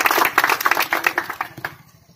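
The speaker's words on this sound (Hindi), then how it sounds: "एक बार हमारे यहाँ पे जितने गुरुजनों हैं उनके लिए जोरदार तालियां" Teachers' Day gathering at a coaching institute, with dense clapping from a crowd honoring the teachers, loud and steady at first, then thinning out and fading to a few scattered claps.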